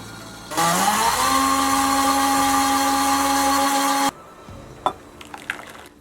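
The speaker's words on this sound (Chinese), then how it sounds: "再用料理机磨成玉米浆" A food processor blends fresh corn kernels, two eggs and milk into corn batter, a loud steady motor whine that starts abruptly, rises in pitch, runs for about three and a half seconds, then cuts off, followed by a few light clinks.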